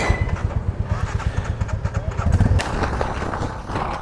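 A motorcycle cruises on a straight, smooth highway between Nagaur and Amritsar, its engine thumping in a steady, rapid pulse with wind rumble, close and fairly loud throughout.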